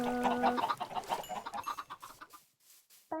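Chickens clucking in Minecraft, a run of short, close, repeated clucks that thin out and fade toward the end, with a brief sharp sound at the very end.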